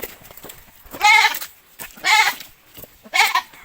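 A goat bleats three times in loud, wavering cries, evenly spaced and close by.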